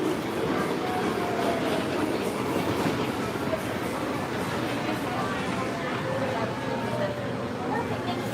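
Kennywood Park amusement park train rolling along its track near the Monongahela River, a continuous low rumble with faint rail clatter and people talking nearby.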